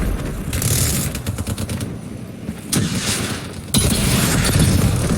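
Gunfire in the Call of Duty Black Ops 3 video game, with bursts of automatic shots and heavier booming blasts over a dense, loud battle din that swells sharply near the end.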